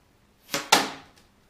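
A Cold Steel 625 Magnum blowgun dart strikes a beer bottle cap taped down. There are two sharp, close impacts less than a quarter second apart, each with a short ringing decay, then a faint tap.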